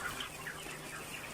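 Clucking from 33-day-old chickens, a few soft overlapping calls in a brief, faint burst.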